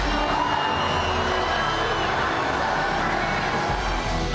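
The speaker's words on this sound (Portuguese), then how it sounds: "vaiada pelo povo" Crowd at a UFC event in a large arena, a continuous roaring wash of many voices with whoops and shouts, loud and unbroken throughout, without clear booing standing out.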